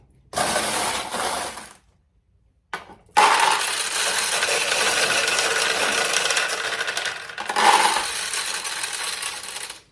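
Metal balls rattle and clatter continuously through a restored vintage Nishijin Model A recycler pachinko machine, in two bursts split by a short pause and then a long dense run with no voices.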